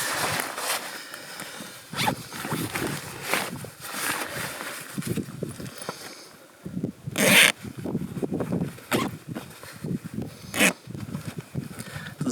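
A zipper on diving gear is dragged in repeated short, rasping pulls, stalling and restarting with scuffing rubs between them, close and loud with no talk.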